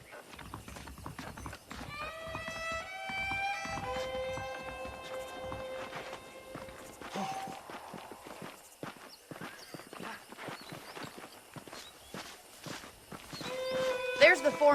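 Steady clip-clop of saddled horses walking at an even pace in the video game Red Dead Redemption, with a tonal melody playing over it and occasional talk.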